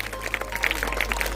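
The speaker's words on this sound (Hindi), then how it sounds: "एक बार जोरदार तालियां उदयलाल जी भाई साहब के लिए।" Crowd applause at a government senior secondary school's annual function in Ishwarnagar, Keshoraipatan, steady and fairly loud scattered clapping from many hands over a low hum, with no voices heard.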